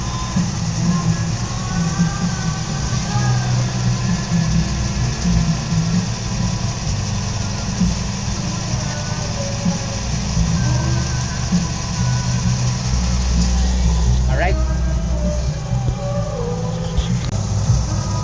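A camper van's engine idles steadily while its power steering is bled, a low continuous hum and rumble with faint mechanical whines over it and no talking.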